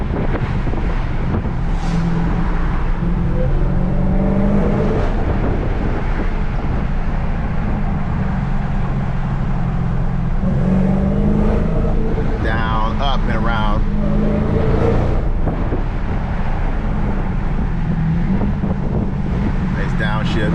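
A 2020 Dodge Charger Daytona Hellcat engine drones continuously from inside the car as it climbs a mountain road, loud and steady with wind buffeting and someone talking over it.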